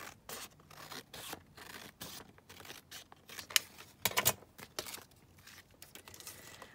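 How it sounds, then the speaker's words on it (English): Scissors trimming paper for a junk journal: faint, close snips and crisp rustles of paper in an uneven rhythm, with a few sharper cuts partway through. "I'm just going to trim this down now across here"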